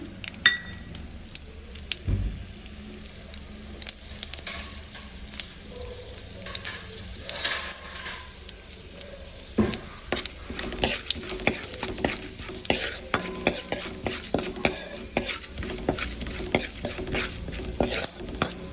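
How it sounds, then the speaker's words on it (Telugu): Chana dal and urad dal sizzle and crackle in hot oil for a South Indian tempering, with steady frying hiss, frequent sharp pops and occasional stirring scrapes of a spoon in the pan. "తాలింపులో శనగపప్పు మినపప్పు రెండు కూడా వేస్తున్నాను"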